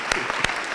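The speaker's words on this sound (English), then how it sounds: "Give yourself a round of applause" Law students at a university career day give a short burst of applause, with a few distinct claps standing out over a brief moment.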